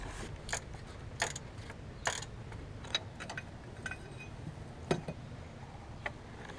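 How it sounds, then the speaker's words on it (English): The rear stiffener comes off a Honda BAXA transmission, heard as intermittent close metallic clicks, ratcheting and tool knocks against a quiet background, with no talking. "Remove the rear stiffener."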